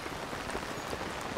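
Steady rain hiss falls in Zelda: Tears of the Kingdom on the way to Zora's Domain, a dense, even wash of droplets filling the short stretch with no voices over it.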